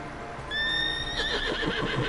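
A horse in The Witcher 3: Blood and Wine gives a loud, close neigh, a long rising whinny followed by snorts and some hoof clatter, with no talking.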